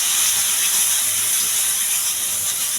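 Onion and ginger-garlic paste fry in a pan for a potato and meal maker curry, a steady loud sizzling hiss that runs unbroken for nearly three seconds with no talking.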